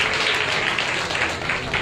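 Congregation at a Thursday church meeting breaks into loud, continuous applause, a dense wash of clapping filling the short stretch without talk.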